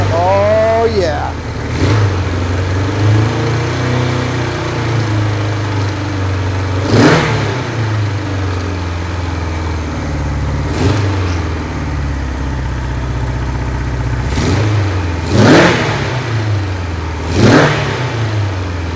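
A rare Kawasaki Z1 or Z2 motorcycle engine idles with a deep, steady rumble and then revs sharply several times, loud and close, while people talk over it.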